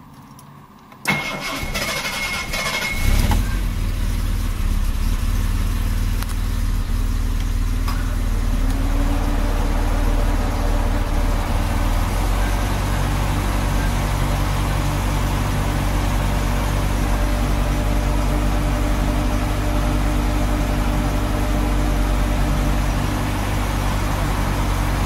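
A car engine cranks and starts, then settles into a steady, loud idle that runs on for over twenty seconds, with the engine driving an A/C compressor whose seal is leaking.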